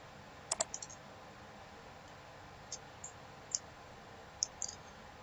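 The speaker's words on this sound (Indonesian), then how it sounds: "Setelah kita centang, kita bisa klik tambah." Computer mouse clicks while a student enrolls in a class on an academic web portal, a few faint close clicks scattered irregularly over quiet room hiss, with no speech.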